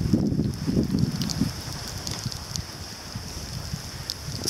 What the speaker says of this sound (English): It's also extremely windy.